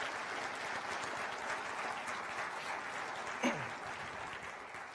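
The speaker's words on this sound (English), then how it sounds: "Bob, stand up. You deserve a round of applause." An audience applauds Bob at a 2015 State of the County address, a steady, even wash of clapping that stays fairly soft and distant for the whole stretch.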